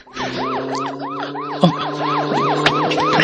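A police siren wails in a fast, repeating up-and-down yelp, loud and close, over a low engine hum. A couple of thuds sound partway through.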